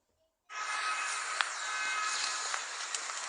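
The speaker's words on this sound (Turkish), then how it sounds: "Bir tane adam indi metroya." A metro train runs as a steady broadband rush that starts abruptly and holds loud and close, with faint brief squeals and clanks riding on top and no voices.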